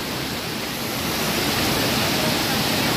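A fast-flowing waterfall at Amboli Ghat roars as a steady, dense wash of broadband noise, loud and continuous throughout with no breaks.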